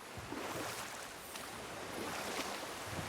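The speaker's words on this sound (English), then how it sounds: "Waterfall. Sure is beautiful." Steady broadband rush of a waterfall in the video game God of War (2018), constant and fairly loud, with no pauses across the whole stretch.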